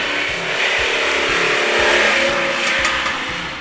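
A 1985 Lamborghini Jalpa engine revs in a steady, loud burst with rhythmic low pulsing, rising slightly midway and holding close up without any talk.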